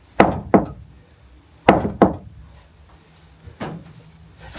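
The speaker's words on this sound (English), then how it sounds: "I take my shoe, knock it out" A shoe is knocked against a wooden goat trough on a small farm, giving sharp, close hollow knocks in quick pairs, repeated several times with short pauses between them.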